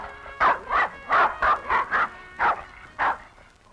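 A dog barks about eight times in an uneven series of sharp, fairly close barks with brief gaps between them.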